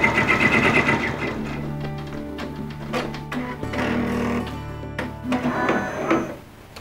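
An embroidery sewing machine stitches fabric held in a hoop, giving a close mechanical whir with changing tones and rapid needle clatter that runs steadily through the whole clip.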